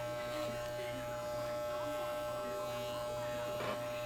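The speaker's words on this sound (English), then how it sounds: "give it a nice close shave, not too much" An electric shaver runs steadily, shaving the fur of a fursuit, giving a close, constant buzzing hum with slight shifts in tone as it moves across the fur.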